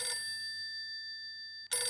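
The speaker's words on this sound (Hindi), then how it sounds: "फोन आया।" A telephone rings with a bright, steady electronic tone held for over a second before cutting off abruptly into other noise.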